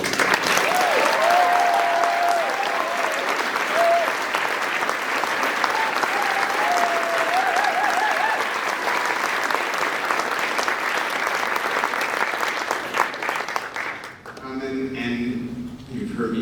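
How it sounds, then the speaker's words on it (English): Sustained audience applause at a student global studies presentation on Senegal and Cambodia, loud and dense for about fourteen seconds before dropping away as a voice begins speaking. "So just please give a round of applause for the"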